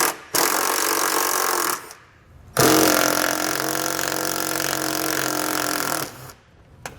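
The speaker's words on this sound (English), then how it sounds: "We're going to use our 10mm socket to remove the nuts." Power tool with a 10mm socket running nuts off under a 2014 Kia Forte, in two loud, close, steady buzzing bursts separated by a short pause.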